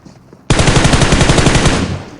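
Rapid automatic gunfire in PUBG Mobile on an iPad Pro, a loud, close burst of dense repeated shots lasting under two seconds before trailing off.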